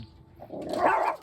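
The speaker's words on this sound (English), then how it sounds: "My dog is barking." A dog barks once indoors, close and fairly loud, a short rough bark rising out of near silence with no talking over it.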